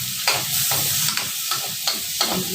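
Chopped tomatoes sizzle in a pan with already-reddened onions, a continuous frying hiss broken by several sharp scrapes and stirs of a spatula at roughly half-second intervals, close and clear with no talking.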